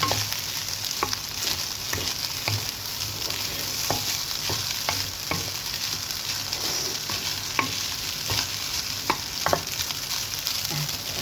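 Fried rice with pork and lettuce being stir-fried in a pan, a steady sizzle with repeated sharp scrapes and clacks of the utensil throughout, close and continuous with no talking.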